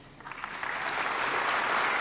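Applause from the crowd at a Philippine State of the Nation Address swells from a soft patter into a fuller, steady wash of clapping, heard a little distant.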